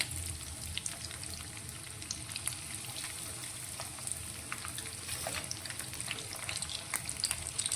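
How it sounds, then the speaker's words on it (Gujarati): A potato and poha snack fries in oil over a medium flame, giving a steady, close sizzle with scattered light crackles and no voices. "હવે બનાવેલા નાસ્તાને આપણે તેલની અંદર લઈ લઈશું ગેસની ફ્લેમ મીડિયમ રાખી અને આપણે નાસ્તાને ફ્રાય કરીશું"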